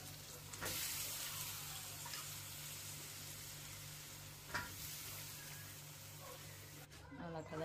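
Steady sizzling of eggplant frying in a pan with a few stirring scrapes, close by and continuous, with a faint voice near the end.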